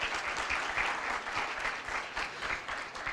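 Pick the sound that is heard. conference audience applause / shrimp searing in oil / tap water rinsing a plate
conference audience applause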